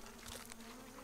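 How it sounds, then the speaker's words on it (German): In the Grounded survival video game, a mosquito hums as a faint, continuous insect buzz over a brief low background, with no speech. "Eine Mücke."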